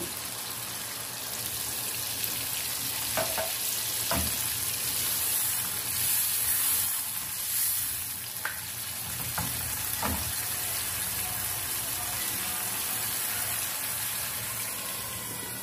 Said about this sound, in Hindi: आलू शामिल करके हम इसको 5 मिनट तक भूनेंगे।